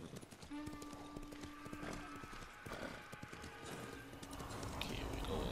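Rhythmic hoofbeats of a horse moving along steadily in Ghost of Tsushima, with a brief whinny and a sustained tonal hum in the background.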